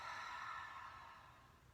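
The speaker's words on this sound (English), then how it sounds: "Open your mouth, exhale." A deep breath is exhaled through an open mouth during a chair yoga relaxation, a soft, airy breathy rush close by that fades gradually over under two seconds.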